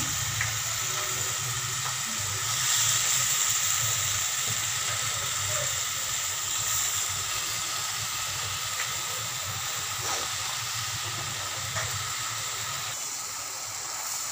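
Spinach going into a hot small wok of lightly boiled potatoes and prawns, giving a steady broadband sizzle and hiss that holds loud and continuous throughout, with no talking.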